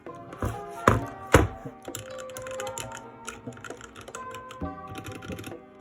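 Keys on a Redragon K552-WR mechanical gaming keyboard click and clack close to the microphone in irregular bursts, with a few sharp louder strikes near the start, then lighter scattered typing.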